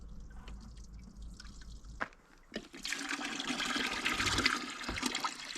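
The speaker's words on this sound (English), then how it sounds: "I'm going to dump probably all of this oil in here" Used oil is dumped into a pail, a steady liquid pour and splashing rising after a brief pause, close and fairly loud, continuing with gurgling trickles to the end.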